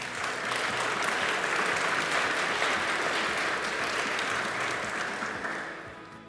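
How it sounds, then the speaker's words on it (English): Sustained audience applause at an education innovation awards ceremony, a dense even wash of clapping that holds steady for several seconds before tapering off near the end. "Let's give them another round of applause"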